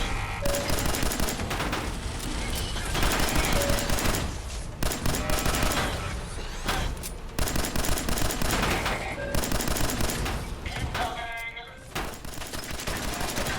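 Sustained automatic gunfire in Fallout 4, aimed at the leg of a large hostile robot, with rapid loud bursts that continue almost without pause and only brief gaps, plus occasional heavier impacts.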